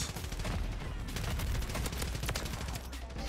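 Continuous rapid gunfire from the shooter video game Call of Duty Modern Warfare 3, a dense, unbroken clatter of closely spaced shots that stays loud for the whole stretch.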